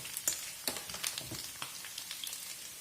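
Chopped onions are poured into a hot frying pan for a beef goulash, giving soft, scattered sizzling and crackling ticks at a modest level, with no voices.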